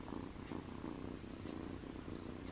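A cat lying on a couch in a Kenyan village home purrs close up, a steady rhythmic rumble rising and falling with each breath, soft but clear and alone.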